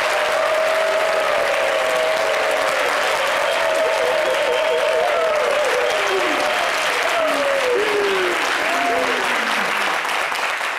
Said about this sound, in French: que vous allez applaudir sans que je vous demande